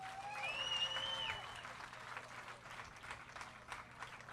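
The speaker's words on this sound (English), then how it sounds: "Let's give them a round of applause." Audience applause at a bass fishing tournament weigh-in on the St. Johns River, a broad wash of clapping from a crowd that rises, then thins out alongside loud whistling and background noise.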